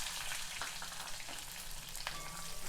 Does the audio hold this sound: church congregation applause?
no